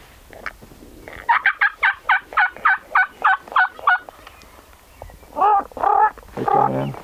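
A wild turkey tom in a Montana river bottom calls close and loud: a quick run of about ten evenly spaced pulses, then three longer, louder gobbling bursts, with no voices over it.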